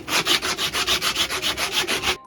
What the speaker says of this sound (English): you take a belt sander belt and you rip it in half, and then you kind of pretend like you're shining a shoe with it